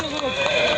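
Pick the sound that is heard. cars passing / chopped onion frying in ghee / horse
horse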